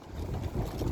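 Strong northeast wind buffets the microphone at a Finnish shoreline fishing spot, a dense, continuous low rumble with no other sounds breaking through.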